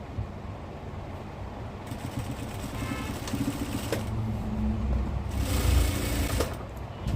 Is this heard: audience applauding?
no